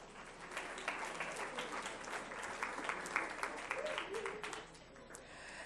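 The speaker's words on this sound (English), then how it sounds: "Let's give them one more round of applause" Applause at a school board meeting: a room of people clapping at moderate volume for several seconds before it tapers off, with faint voices mixed in.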